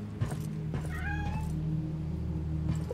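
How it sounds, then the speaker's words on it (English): A cat meows in the Sinking Iron video game, a single drawn-out rising call standing clearly over a steady low mechanical hum of the game's background. "Aw, kitty."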